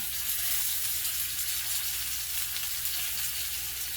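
A tuna steak sears in a hot pan with a dense, steady, close sizzle that holds at an even level throughout.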